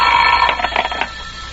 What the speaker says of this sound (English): The telephone sounded like it was ringing miles away.